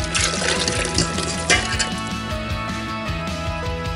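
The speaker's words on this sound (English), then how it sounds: "And you just pour it in like so." Frothy, risen yeast mixture is poured into a bowl for a fresh-roll dough, a steady liquid pour with a sharp clink partway through and a thin trickle continuing throughout.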